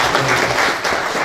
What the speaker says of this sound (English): So he deserves another round of